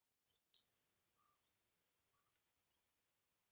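A single bell is struck once after a short silence, giving a bright clear ding that rings on and slowly fades with a gentle pulsing shimmer, alone and close.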